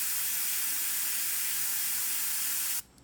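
An airbrush sprays orange paint in a steady, close hiss that holds for nearly three seconds before cutting off abruptly.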